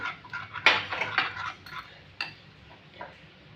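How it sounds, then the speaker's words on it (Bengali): Mustard and poppy seed paste mixed with water, sugar and salt in a bowl for steamed egg, a few sharp clinks and scrapes of a spoon against the dish, close, then quieter stirring. "এবারে এটাকে আমি ভালো করে ঘেটে নেবো একসাথে মিশিয়ে নেবো"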